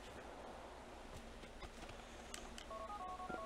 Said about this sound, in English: Freaking phone call.